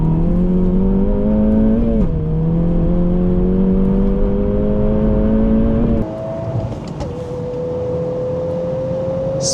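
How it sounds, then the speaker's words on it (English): A 2024 VW Golf R with all-wheel drive accelerates hard in second gear from about 60 km/h, its engine note climbing steadily and loudly. There is a brief dip near two seconds, then a drop in revs and a lighter, steadier drone toward the end. "Second gear, 60 kilometers an hour. Let's see this Golf R, all-wheel drive."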